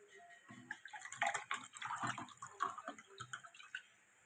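Water poured from a container to refill it in a home kitchen, a steady trickling and splashing stream with small drips and gurgles, fairly close and moderately loud, no talk over it.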